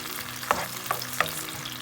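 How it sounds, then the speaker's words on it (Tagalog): A soy sauce, calamansi and crushed pepper mixture goes into a hot pan, giving a soft, steady sizzle with a few brief splashy bursts, faint and close. "ibubuhos na natin yung mixture ng soy sauce dito, yung soy sauce na may calamansi tsaka pamintang durog"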